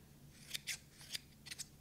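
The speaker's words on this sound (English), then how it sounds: "pair of scissors, okay? Alright, so let's see if I can't just cut these loose wires" Scissors snip loose wires in a quiet room, a few crisp, close cuts coming in small clusters with short pauses between, soft and alone with no talk.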